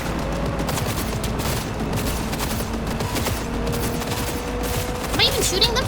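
Rapid video game gunfire, a dense ongoing fusillade of shots with mechanical clatter that stays loud throughout, with a voice speaking briefly over it.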